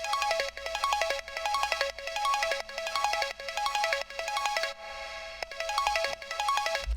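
The Bella Synth preset by Echo Soundsworks in Serum plays a bright, rapid repeating arpeggio in steady pulsing phrases with a short gap near the end, no talking.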